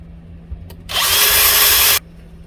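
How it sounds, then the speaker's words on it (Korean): A power drill whirs steadily for about a second, loud and close, after a faint tap, with a low hum underneath, drilling holes for epoxy to grip in a UV lure-charging light build. "이쪽에 구멍을 좀 뚫어 줄게요."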